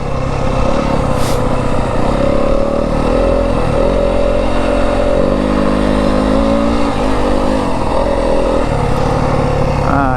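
A 2025 Yamaha WR250F dirt bike engine runs steadily in first gear on a desert trail, a loud, close, continuous drone with small shifts in revs and no talk over it.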